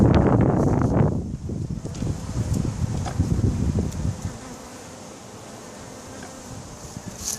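Honeybees buzz steadily close to the microphone while a new colony is put into a hive, a dense droning hum over low rustling and wind noise.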